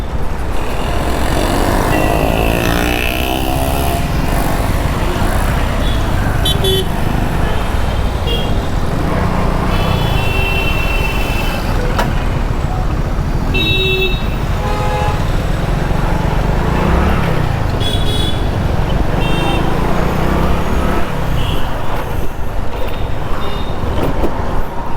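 Busy road traffic crawls through a queue at a signal: a dense, continuous wash of car, bus and truck engines nearby, with passing vehicles swelling and fading.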